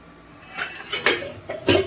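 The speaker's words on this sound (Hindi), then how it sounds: "अब इसको किसी बाउल वगैरह में रख लेते हैं।" Fried chana dal poured from a pan into a bowl, a few dry clinking and rattling bursts of dishware and cutlery, close and moderately loud, with short pauses between them.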